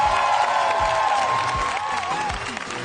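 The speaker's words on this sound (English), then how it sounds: "Can I get one more round of applause for Nominal Gravy and Johnny?" Loud, dense applause fills the room continuously, steady clapping from a large crowd with some cheering mixed in, at a live Minecraft preshow event.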